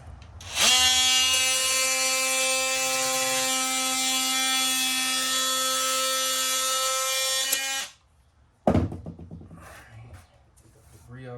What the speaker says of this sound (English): Here's my Dremel.